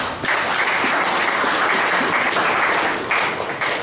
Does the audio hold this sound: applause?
yes